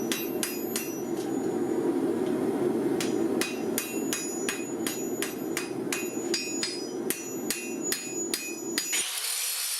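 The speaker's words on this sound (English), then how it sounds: "But I still had to do some hand hammering." Steady, ringing hammer blows strike hot steel by hand in a quick repeated rhythm while forging a seax knife blade, close and loud, over a constant roaring background hum.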